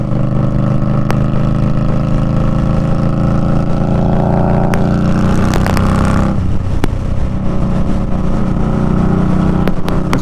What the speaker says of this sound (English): Now what I have added is the new GP Shorty exhaust tips.